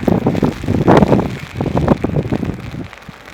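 Gusty wind buffets the microphone in heavy rumbling bursts on a boat in Scotland, with a patter of rain mixed in, loud and close throughout.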